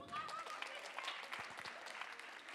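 Audience applause for three stage performers after an apprentice theatre show, a steady patter of clapping with someone talking over it.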